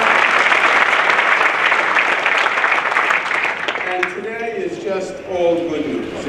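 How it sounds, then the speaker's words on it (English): Applause from the crowd at a casino grand opening ceremony, loud and continuous for about four seconds before fading as a voice speaks over it. "Let's give them a round of applause."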